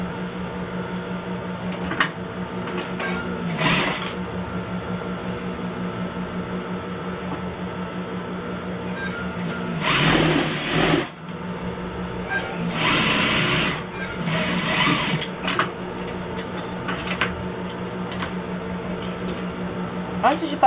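A straight-stitch sewing machine hems a fishtail skirt, running in a steady mechanical whir that stops and restarts in several bursts, close by and fairly loud, with a faint background hum between runs.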